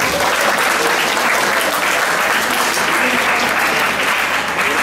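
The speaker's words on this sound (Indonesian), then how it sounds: "tepuk tangan juga untuk semuanya" Sustained applause from a large audience of madrasah students at a school event, dense and loud, steady throughout without breaks.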